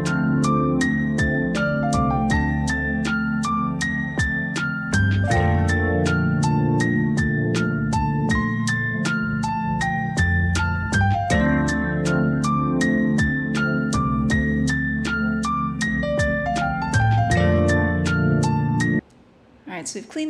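Hip hop beat with punchy drums, a lead melody and piano notes filling the gaps between lead phrases, looping steadily and loud, then cutting off briefly near the end.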